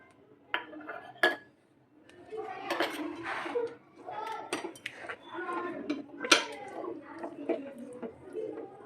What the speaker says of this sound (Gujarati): હવે 1 ચમચી કરીને નાખતા જશું અને ચલાવતા જશું